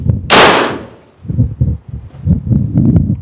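A BinTac T50 Extreme semi-automatic .50 caliber tactical airgun fires a single shot. There is one sharp, loud crack near the start, followed by a quick decay, then low scattered knocks and handling noises.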